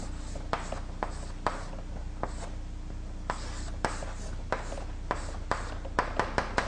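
A marker or chalk draws figures on a board: soft continuous scratchy strokes broken by regular sharp taps, with a quicker cluster of taps near the end and no voices.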